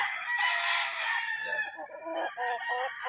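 A rooster crows loudly and close at a game farm, one drawn-out call followed by a few shorter clucking notes.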